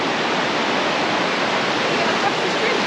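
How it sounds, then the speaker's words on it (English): Tumpak Sewu waterfall in East Java roars as a dense, continuous rush of falling water, loud and steady from start to finish with no voices. "Here we are, heading to the main waterfalls now."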